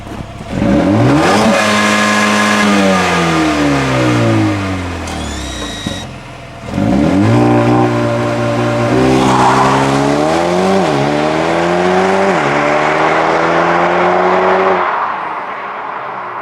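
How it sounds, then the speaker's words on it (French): A Mercedes A35 AMG launch-control start: the engine revs hard and climbs through several gear shifts, roaring loudly with brief pauses between pulls, then fades at the end. "Donc là tu nous fais quoi? Un petite accélération? Avec grand plaisir. Launch control?"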